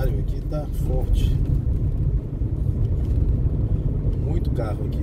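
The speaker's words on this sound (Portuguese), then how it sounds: "muito carro aqui" Heavy oncoming car traffic on Avenida Ayrton Senna in Parnamirim near Natal, a dense continuous road rumble heard from inside a moving car, with passing vehicles whooshing by and no talk in this stretch.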